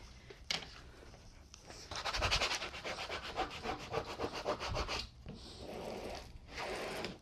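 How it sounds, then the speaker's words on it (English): A scraper rubs and smooths decal vinyl onto a wrapped canvas, giving close, dry scratchy strokes in repeated bursts, with brief pauses between passes and no talking. "I'm going to grab my scraper and start smoothing this."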